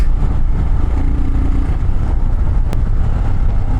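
Custom Royal Enfield Himalayan motorcycle with Power Edge exhausts on a ride, a steady low engine rumble and throb heard close and loud, with wind noise and no talk.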